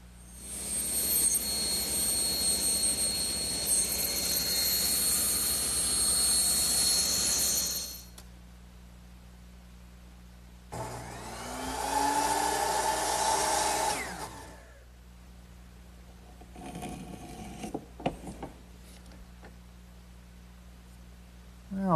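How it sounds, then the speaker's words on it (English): A power saw rips the excess from a wooden frame molding in a workshop, loud steady whine for several seconds, then a second shorter cut, then brief clatter as the piece comes free. "So I'll just rip off the excess."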